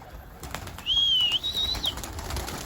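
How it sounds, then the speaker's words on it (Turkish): Pigeons in a coop coo softly and low, with a brief rustle like wingbeats and a thin high whistling tone drifting above. "Çok güzel kuşlar var."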